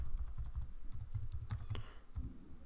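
Rapid keystrokes on a computer keyboard as a command is entered in a terminal, a close, steady run of clicks with a few brief pauses and a final key tap.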